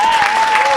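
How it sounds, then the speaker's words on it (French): Church congregation applauding and cheering, a short loud wash of crowd clapping with a sustained whistle-like tone running through it. "Donne une grande acclamation."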